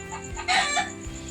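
A rooster or hen on a Philippine night outing, just woken, gives a short loud cluck-like call that swells at the middle and then fades, alone with no speech.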